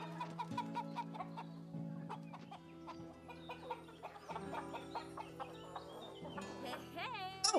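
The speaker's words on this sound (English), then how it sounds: "You are a green chicken." Clucks from a green chicken in the Maliki video game come in a string of short, choppy calls over soft background game music, with faint scattered sounds around them.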